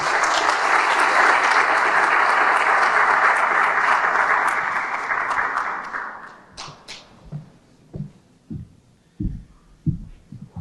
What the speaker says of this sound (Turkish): Ömer Bey'i alkışlarınızla buraya davet ediyoruz.